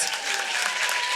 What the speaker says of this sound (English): Delilah, let's give you a round of applause.